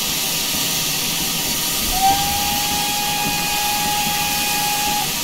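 A single long, steady primary whistle tone from a GWR steam locomotive in Train Sim Classic sounds for about three seconds over constant hissing background noise, with no talking.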